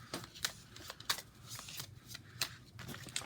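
A deck of JurassAttack! game cards being shuffled at close range, a series of quick riffling bursts with short pauses between them, fairly quiet, with no talking.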